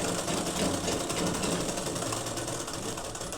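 Sewing machine running steadily while stitching the armhole seam of a blouse, a continuous close mechanical whir and rapid needle chatter with no pauses and no talk.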